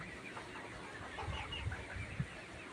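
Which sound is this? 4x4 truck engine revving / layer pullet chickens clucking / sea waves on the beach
layer pullet chickens clucking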